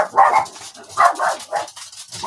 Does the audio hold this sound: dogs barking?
yes